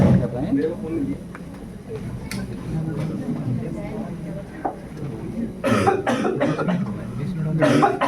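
A person coughs and clears their throat several times, the harshest burst of coughing coming near the end, amid other voices and low chatter.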